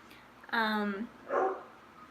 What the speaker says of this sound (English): she's not such a small dog, but she's a small dog, but she has like this deep bark